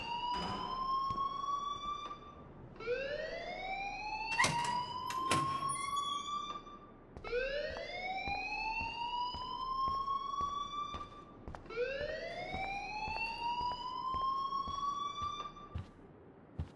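A school alarm in the video game Life Is Strange wails in four long rising sweeps, each climbing and then holding before it cuts off, with a few sharp clanks in between and no voices.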